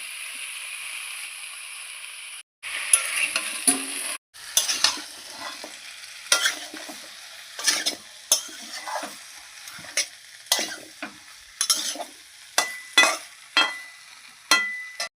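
Hilsa fish heads that were fried earlier go into a pan with pumpkin and are stirred, making a light sizzle broken by repeated sharp scraping strokes of a spatula in an uneven rhythm.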